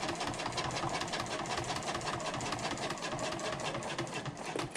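A sewing machine runs steadily, stitching a bag strap to the end and back-stitching, a dense continuous mechanical whirr with rapid repeating needle strokes throughout.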